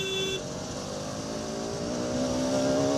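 A KTM motorcycle of 24 BHP revs its engine, giving a loud, steady drone whose pitch climbs slightly toward the end, close by and without voices.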